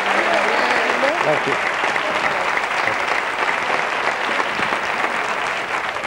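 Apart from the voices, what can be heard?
studio audience applauding for Elena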